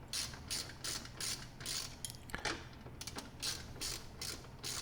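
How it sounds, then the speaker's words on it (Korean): A 13mm socket ratchet works a nut loose on a Tesla Model 3 during trunk and rear fender soundproofing, giving several bursts of rapid pawl clicking with short pauses between strokes, close and fairly quiet. "13mm 소켓으로 저 너트를 풀어줄게요"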